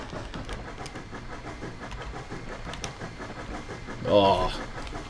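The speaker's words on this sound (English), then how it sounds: "There is nothing greater in life than the sound of flanges squealing." A narrow gauge train on the Clear Creek Narrow Gauge Railroad rumbles and clatters along the rails, then a short burst of loud, high flange squeal cuts in near the end, with a voice heard over the noise.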